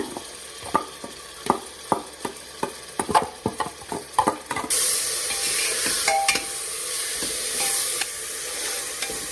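Homemade biryani paste fries in a pressure cooker while being stirred, with rhythmic spoon scrapes and sizzles for the first half, then a louder, continuous hiss of frying steam.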